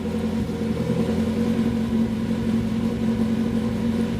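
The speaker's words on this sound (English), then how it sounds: "it's idling okay" A Nissan SR20DE engine idles steadily up close after throttle body cleaner is purged, a continuous low rumble with an even, unbroken drone.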